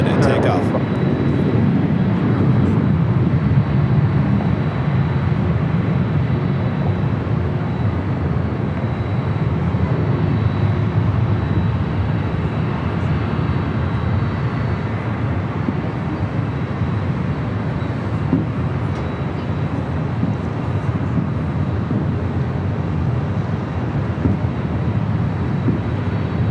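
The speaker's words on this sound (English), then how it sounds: "We also have Air France Flight 27 and A350-900 also heading up for a north to side and takeoff." An airliner, an Air France A350-900, powers up for takeoff at LAX, making a steady, loud, broadband jet roar that holds without a break for the whole stretch.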